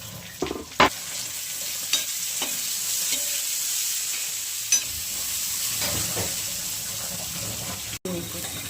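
Cashews and half a cut tomato sizzle in a hot pan of oil, a steady frying hiss with occasional clinks and stirring knocks, close and moderately loud.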